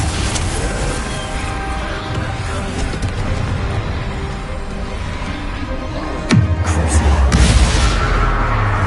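A Bombarda spell explosion in the Hogwarts video game lands as one sudden, loud boom with a deep rumbling tail, breaking through busy, continuous battle noise.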